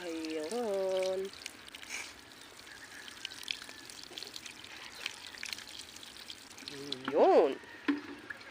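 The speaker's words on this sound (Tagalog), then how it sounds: "didiligan ko lang yan" Water is poured onto soil in a small pot to water a tomato plant, making a soft, quiet trickle through the middle, with a voice talking briefly at the start and end.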